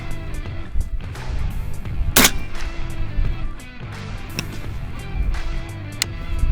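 A Ukrainian-built Zbroyar UAR-10 sniper rifle fires one sharp, loud shot that stands out above a steady low background, followed later by a couple of fainter cracks.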